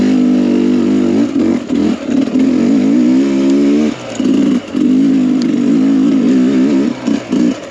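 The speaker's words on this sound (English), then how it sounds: "The bike just has more pull. It doesn't sound quite as powerful, but it just pulls better." A carbureted dirt bike engine pulls hard in second gear up small hills, its loud, close drone rising in pitch with brief throttle dips and surges between climbs.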